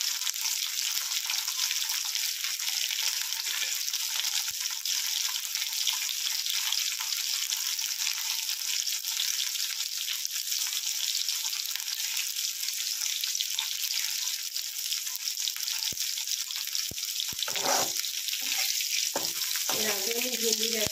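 Okra curry sautéing in a pan over a lowered then slightly raised flame, giving a steady, close, hissing sizzle that runs throughout, with a few stirring knocks toward the end and no voices.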